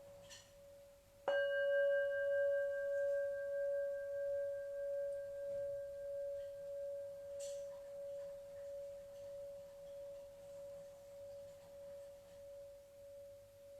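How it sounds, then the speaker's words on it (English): A singing bowl struck once, ringing with a clear sustained tone and bright overtones that shimmer and slowly fade over about twelve seconds in a quiet room. "Just become aware of the sound of the singing bowl and listen to it as far as you can hear the fading."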